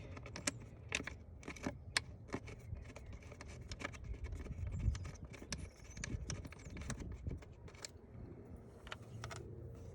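Bolts go back into the crankcase filter housing of a Ram 3500 with a 6.7 Cummins engine. Faint metallic clicks and small clinks come at irregular intervals, close up in a quiet space.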